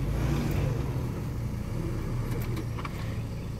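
A Hummer H3 stuck in mud with its engine revving in a steady, loud low rumble throughout, while faint voices and a brief clink sound in the background.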